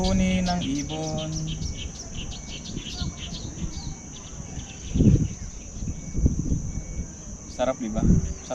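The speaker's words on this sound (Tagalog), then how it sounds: "Ang huni ng ibon." Birds chirp and sing outdoors on a pleasant day, with a short, clear call near the start and scattered tweets over a steady insect-like trill. A person talks under the birdsong.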